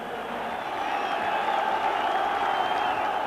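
A large football crowd fills Ibrox Park stadium before a Rangers versus Hibs match, heard as a steady, fairly distant murmur with faint applause and no clear individual voices.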